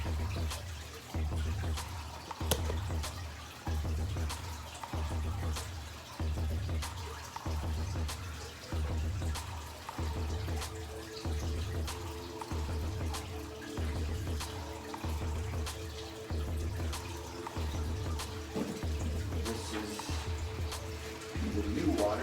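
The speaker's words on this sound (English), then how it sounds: "Now I'll refill this tank." Water pouring and splashing steadily into a saltwater aquarium tank as it is refilled, a continuous near wash of running water with a faint pulsing rhythm and a soft voice talking underneath.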